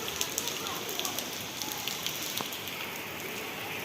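Heavy monsoon rain falling in Surat, a dense, steady hiss of rain on surfaces with scattered nearby drips and splashes, continuous and fairly loud.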